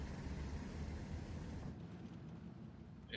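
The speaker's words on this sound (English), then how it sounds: "Look at that engine burn. Just hear that." A video game craft's engine burn roars as a dense, steady rushing blast that drops off partway through, loud and close.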